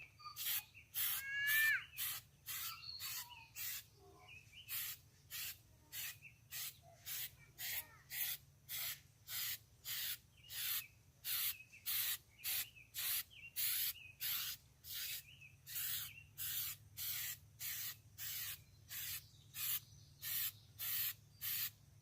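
Untouchable Tire Wet Tire Finish from Cristal Products is misted onto a tire in a long series of quick, evenly spaced trigger-spray bursts. The hissing bursts are close and clear, with short gaps between them.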